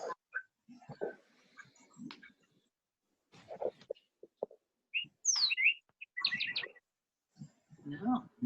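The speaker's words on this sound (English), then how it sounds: "No, nice birds." Birds chirp in scattered short calls and quick high twitters, fairly faint and intermittent with quiet gaps, a few brief murmurs of people nearby between calls.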